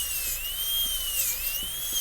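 High-pitched whine of a dental drill with a dull 55 burr cutting a Class II slot preparation in a tooth, a steady close tone that dips slightly in pitch under load.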